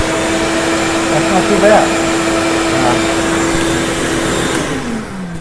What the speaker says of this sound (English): running that vacuum cleaner at the same time you're running your tools